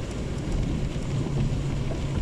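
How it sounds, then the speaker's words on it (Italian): Continuous wind roaring against the microphone with a dense wash of cold rain near Acerra, Italy, at about 6°C, loud and unbroken throughout. "pioggia e vento forte"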